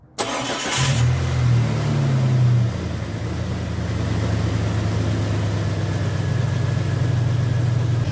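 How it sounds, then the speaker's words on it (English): A late-1990s Jeep Cherokee XJ engine, with a newly installed AW4 transmission, cranks briefly and catches, then settles into a steady, close, fairly loud idle with a low constant hum and no talking. "Go ahead and start the engine."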